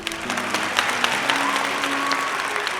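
An inn crowd applauds a bard, steady clapping spread across the whole stretch at moderate loudness, with faint tonal music lines threading underneath.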